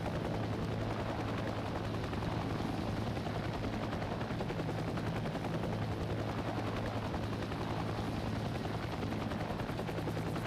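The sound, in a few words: Chinook helicopter in Heliborne video game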